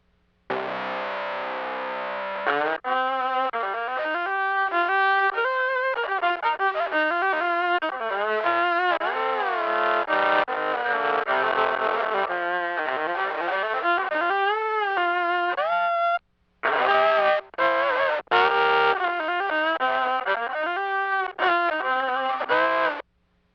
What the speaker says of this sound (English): Let's keep the guitar in the mix and have a listen to the distortion now.